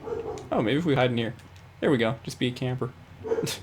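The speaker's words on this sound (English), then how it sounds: "Sorry if you guys can hear my dog barking in the background." A pet dog barks and yips in the background of a room during Call of Duty Black Ops 4 Blackout play, several short barks mixed in and partly masked by someone talking close to the mic.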